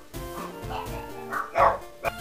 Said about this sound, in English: Someone just knocked on my door and my dogs went crazy.